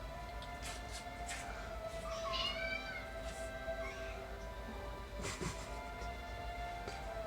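A small kitten gives a few faint, high meows against steady low background hum, with longer gaps between the calls and no voices.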